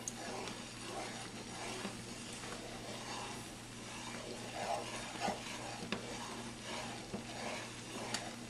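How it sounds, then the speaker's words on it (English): Hot homemade strawberry jam stirred continuously in a pan, a steady bubbling sizzle with soft utensil scrapes and occasional pops, close and fairly quiet throughout. "we're just going to stir it continuously"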